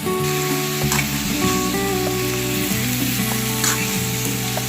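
Spinach greens and green chillies fry steadily in hot oil in a wok, a dense close sizzle that runs unbroken with faint stirring scrapes mixed in.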